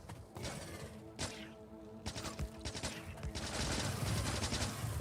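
Turrets in the video game Factorio fire on enemies in a continuous, loud burst of rapid gunfire with overlapping impacts and crashes that build toward the end, with no talking.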